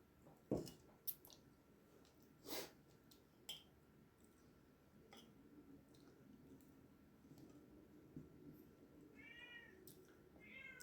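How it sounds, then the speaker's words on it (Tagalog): A cat meows softly a few times nearby, with quiet clicks and chewing sounds in a calm room. "narinig niyo yung pusa ko"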